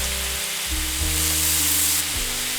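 Scallops and asparagus stir-frying in a pan with oyster sauce, light and dark soy sauce and ground pepper, a steady loud sizzle with scraping stir strokes throughout, no talking.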